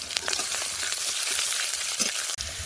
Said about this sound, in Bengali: কড়াইয়ের তেল গরম হয়ে গেছে, এর মধ্যে দিয়ে দেবো পেঁয়াজ কুচি, কাঁচা লঙ্কা চেরা আর একটু কালো জিরে।